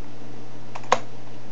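Typing on a computer keyboard, heard as a brief pair of clicky keystrokes, the second louder, close by over a steady low hum with no talking.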